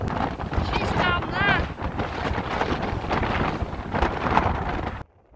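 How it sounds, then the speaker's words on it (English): Strong wind buffeting the microphone on the exposed Shetland coast, loud continuous roar with gusts, a voice briefly heard under it before it cuts off abruptly. "That's how windy it is."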